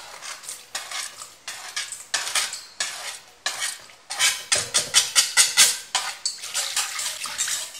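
Condiments go into a Thai beef salad sauce and a metal utensil stirs it briskly in a bowl, making a run of close, rhythmic scraping and clinking strokes that grow faster and louder toward the end.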